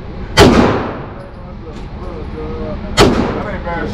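Two loud, sharp gunshots at an outdoor shooting range fired a couple of seconds apart, each leaving a short echoing tail, with faint background noise between them.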